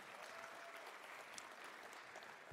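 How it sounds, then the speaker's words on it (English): Steady applause from an audience at a social justice symposium in a university hall, dense and continuous throughout with no voices over it. "How about another round of applause for that?"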